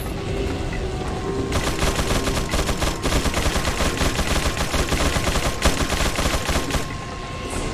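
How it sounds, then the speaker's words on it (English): A minigun fires in the game Resident Evil 4, a loud, rapid, unbroken rattle of shots that runs almost the whole time with dense crackling bursts and no voices. "That's a weird sound for a minigun to make."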